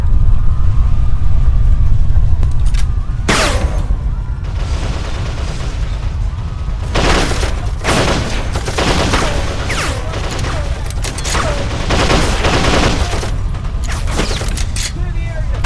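Heavy gunfire in the video game Darkest of Days, set at Pompeii in 79 AD: loud, sustained bursts and volleys with booming impacts, a dense barrage that dips briefly then resumes with repeated sharp shots throughout.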